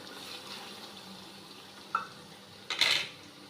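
Meat fries in a pan with ginger, garlic and spices, a soft sizzle under quiet stirring, broken by a light clink and then a louder scrape of a utensil against the pot.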